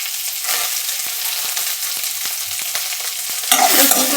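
Garlic sizzling steadily in hot oil in a pan for Maharashtrian kharda, with a spoon scraping and stirring in sharp ticks, the sizzle swelling louder near the end as more goes in.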